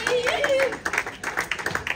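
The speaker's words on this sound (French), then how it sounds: "Applaudissements pour ce CFA créé de Saint-Paul de La Réunion" Applause at the final of a French breakfast and brunch competition greets a CFA team from Saint-Paul de La Réunion, with scattered, moderately loud clapping under a host's speaking voice.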